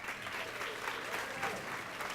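Faint, distant applause from a crowd at an elementary school's 35th anniversary celebration, honoring the principal: a soft, continuous patter of many hands.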